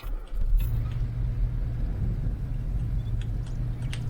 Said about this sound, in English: Let me pull the truck forward.